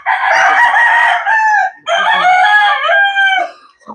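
A rooster crows twice in long, loud, close calls with a brief gap between them, followed by a short softer cluck at the end.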